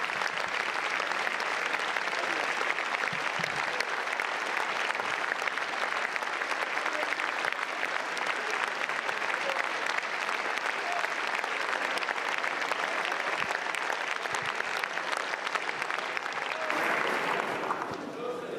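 Sustained, dense applause fills a large parliamentary chamber, the French National Assembly, continuing steadily for the full length and thinning slightly near the end.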